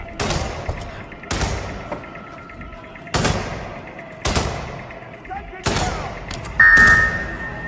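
Gunfire in the stealth video game Hitman World of Assassination, about six sharp, booming shots spaced a second or so apart, loud and close against a quiet game background.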